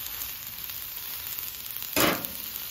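A chunk of butter on a hot griddle gives a soft, steady hiss, with a sudden louder sizzling burst near the end as it hits the hot surface.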